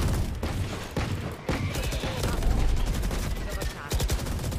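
Gunfire in the video game Valorant: loud, dense bursts of rapid shots with sharp cracks, overlapping through the whole stretch, with a player's voice speaking over the shooting.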